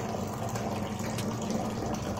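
Running water pours steadily from a tap as hands are rinsed, a continuous close splashing hiss with no talk.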